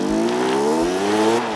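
A moped engine in the video game Generation Zero revs loudly and steadily, its pitch climbing slightly as the throttle holds, a continuous droning whine close by with no talk over it.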